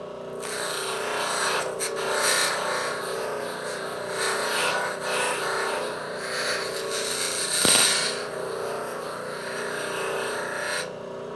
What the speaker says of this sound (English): Other materials can be deburred with this wheel as well